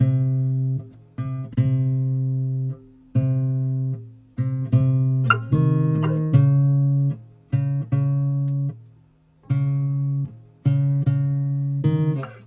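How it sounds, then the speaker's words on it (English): A clean, dry electric guitar plays plucked notes and short chord phrases in bursts with pauses, each note decaying naturally, alone and close. "So I played it on the guitar, and this is what it sounds like raw with no effects on."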